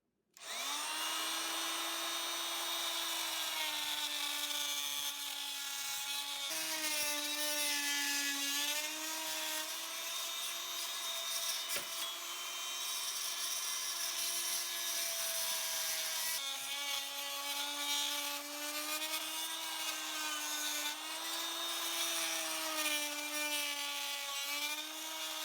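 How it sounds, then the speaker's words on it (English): An oscillating tool cuts through a large ham bone, a steady buzzing whine held close throughout with slight shifts in pitch as the blade bites and loads. "today we're going to try the oscillating tool"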